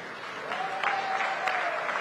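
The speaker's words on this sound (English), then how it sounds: "Another round of applause, ladies and gentlemen." Audience applause at a summit of heads of state and government, a steady broad wash of clapping that swells after the first half second and holds, with a faint tonal whine running beneath it.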